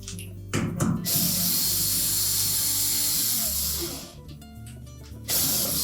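Bolts being tightened on a Whirlpool washer during a brake spring replacement, heard as steady close mechanical ratcheting and turning noise that runs for several seconds with brief pauses, no talking.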